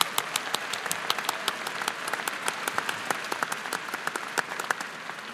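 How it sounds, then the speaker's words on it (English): Sustained applause fills the press conference room, many hands clapping densely and evenly at a steady level, with sharper individual claps standing out and no voices over it. "Could we please give President Sands a round of applause?"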